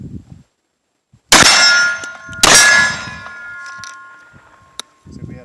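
Two loud, sharp blasts from a Mossberg 930 SPX semi-auto shotgun roughly a second apart, each ringing with a long metallic tail, with brief low voice murmurs before and after.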